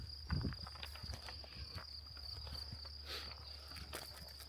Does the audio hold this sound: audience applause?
no